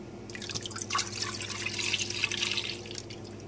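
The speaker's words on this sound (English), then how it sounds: "I'm gonna go ahead and pour the milk in and get her started here." Milk pours into a pot for homemade ricotta, a continuous splashing, bubbling stream with faint drips, heard close and steady for a few seconds.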